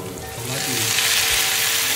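Garlic and onion sizzle steadily in a hot frying pan as tomato goes in to sauté, a close, continuous crackling hiss that swells after the first half-second and holds loud to the end.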